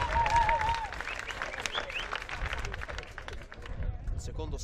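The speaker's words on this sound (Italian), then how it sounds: "L'applauso ritmato della gente presente sugli spalti" Spectators in the stands clap at the center court of a men's beach tennis world championship final at Terracina. The rhythmic clapping is moderately loud and mixed with crowd hubbub, and a brief tone is heard early on.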